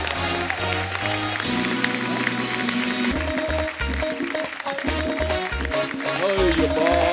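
Studio audience at a comedy talk show claps to welcome guests, applause running under loud music with strong rhythmic beats, fairly distant in the mix.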